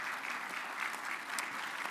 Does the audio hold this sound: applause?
yes